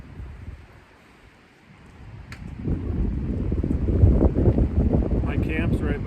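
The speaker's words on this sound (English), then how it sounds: "The wind's been blowing like 30-mile-an-hour gusts today." Strong gusty wind sweeps across an open campsite as a low roaring rumble that starts faint, then builds into loud, buffeting gusts battering the microphone.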